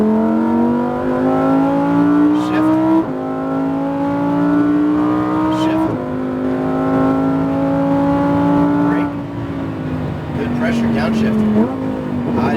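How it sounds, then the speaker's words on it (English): A Lamborghini Huracan race car accelerates hard on a track, its engine note climbing steadily through several gears with brief dips at each shift, loud and close throughout the run. "Squeeze onto that throttle as you straighten the wheel to the right."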